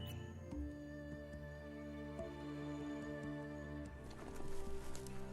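A mechanical undead horse gallops in the video game Last Worldeater, with faint hoof clops and a whinny-like cry under sustained, droning game music that grows busier near the end.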